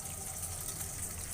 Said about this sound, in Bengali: ভালোভাবে ডলে আমি ধুয়ে নিলাম।